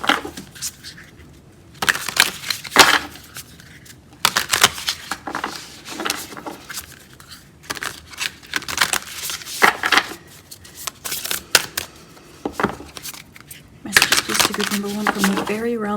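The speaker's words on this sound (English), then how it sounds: "So if the shuffling is a bit loud" A new, stiff deck of tarot cards being shuffled close up in loud, rapid riffling bursts separated by brief pauses, with a voice talking between them.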